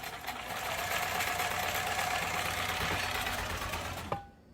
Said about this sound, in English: He got on YouTube and learned about this old sewing machine from Montgomery Ward